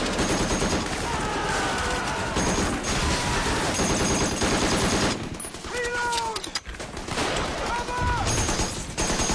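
Gunfire in the war series The Pacific, dense bursts of shots and rattling fire across the stretch, loud and close, with brief shouted voices between volleys.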